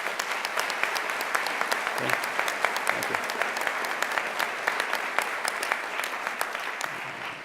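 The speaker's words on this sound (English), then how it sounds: "please give a round of applause to them." Dense, steady applause from a commencement audience at the University of Iowa law school, filling the hall and continuing under a man's brief spoken thanks.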